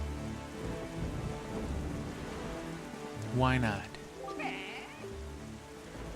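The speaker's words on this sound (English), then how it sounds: "It's raining." Steady rain with rumbling thunder in the video game The Legend of Zelda: The Wind Waker, a constant hiss under game music and a brief spoken phrase.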